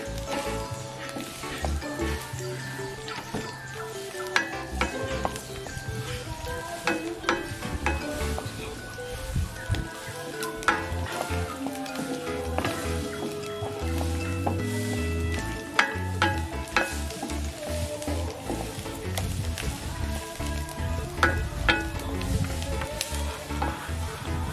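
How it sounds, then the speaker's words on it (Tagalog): Crushed garlic cloves sauté in hot oil for a chicken curry, a steady close sizzle broken by frequent clinks and scrapes of a utensil stirring in the pan, with no voices. "I will put the crushed cloves of garlic. And then saute until golden brown."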